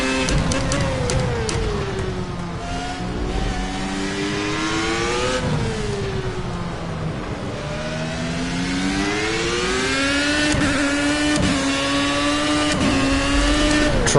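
Racing car engine in Project CARS revs hard and continuously, its pitch climbing and dropping through gear changes with tyre noise underneath, loud and close for the whole stretch.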